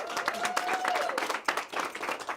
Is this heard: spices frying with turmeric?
no